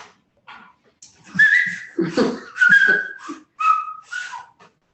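Short whistled notes come in bursts, rising and falling, close by and fairly loud, with brief gaps and a bit of low murmuring between phrases.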